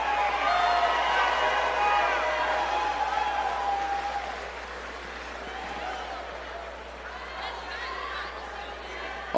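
Crowd at a Cage Titans fight event in a hall cheers and applauds, a broad wash of clapping and shouting that is loudest at the start and then eases to a lower rumble.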